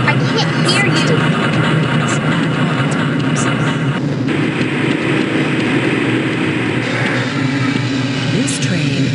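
A train in the video game Half-Life: Blue Shift rumbles and rattles steadily along the tracks, loud and close, with a voice speaking over the constant mechanical noise.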